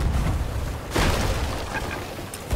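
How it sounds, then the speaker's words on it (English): A heavy cannon blast from a ship in Sea of Thieves lands as one loud boom about a second in, followed by a decaying rumble over the wash of the sea, with a second sharp thump near the end. "Oh boy, they're on cannon."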